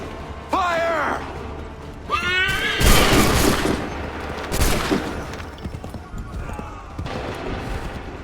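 Musket volleys in Assassin's Creed 3 Remastered, with a few loud ragged bursts of massed shots cracking out between shouted commands and battlefield clatter.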